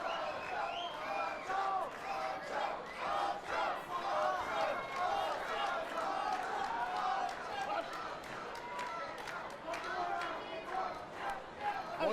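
A fight crowd at a Legacy Fighting Alliance MMA event roars and cheers steadily throughout, with shouts rising over the din and an announcer talking over the noise.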